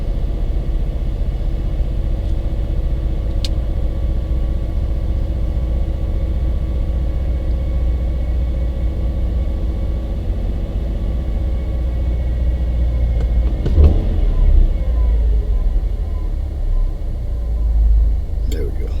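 A car engine idles with a steady low rumble, rises briefly when revved, then settles back to its normal idle, all heard close and continuous.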